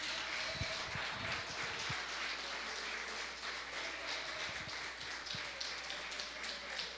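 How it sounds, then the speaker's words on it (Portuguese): Church congregation applauds during a service, a faint, distant wash of many hands clapping steadily, with a few louder thumps near the start. "Você pode aplaudir ao Senhor Jesus."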